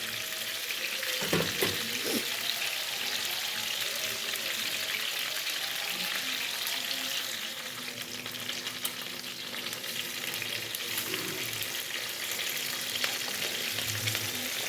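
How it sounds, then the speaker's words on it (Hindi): Fish pieces half-fry, sizzling steadily in hot oil for a fish korma curry, with occasional clinks and scrapes from stirring, and no talking. "बस हल्का हल्का हाफ फ्राई करना है इसको।"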